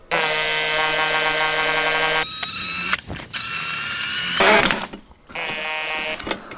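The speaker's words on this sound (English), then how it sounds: "I've got the bracket installed now loosely, and I want to drill this hole" A power drill bores a hole through a fine metal plate on a snowblower chute height control bracket, a loud close whine in bursts with brief stops and shifts in pitch.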